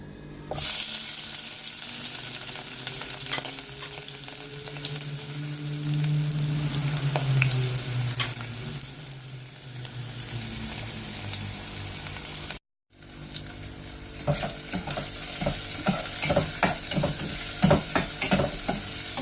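Onion frying in hot oil in a pan for Filipino-style spaghetti, a steady loud sizzle with stirring scrapes and crackles throughout, briefly cut off near the middle, with no talking.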